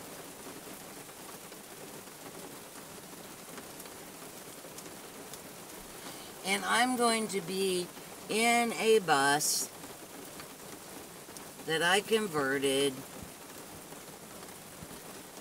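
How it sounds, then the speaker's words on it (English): Rain falls outside a bus converted into a home, a soft, steady patter running throughout while a person speaks in short bursts over it. "And outside it's raining."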